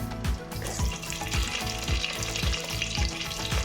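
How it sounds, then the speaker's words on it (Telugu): Green chillies dropped into hot oil in a village-style kitchen crackle and sizzle steadily, with a rhythmic scraping stir recurring about twice a second, close and alone with no voices. "ఇప్పుడు మనం ముందుగా కోసుకున్న పచ్చిమిరకాయలు వేసుకుందాం."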